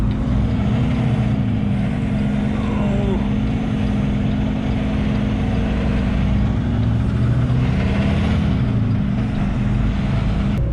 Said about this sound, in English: Oh, there's a truck coming.